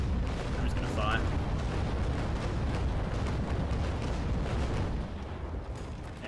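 Cannon fire from a sailing warship in the Naval Action naval combat game, a sustained broadside roar of booming shots rumbling continuously and loud for several seconds before easing slightly.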